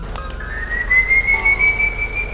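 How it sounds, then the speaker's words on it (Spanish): A distant, thin whistle holds a long rising note after a couple of short chirps, faint and eerie, alone against a quiet background. "un silbido distante los hizo detenerse en seco"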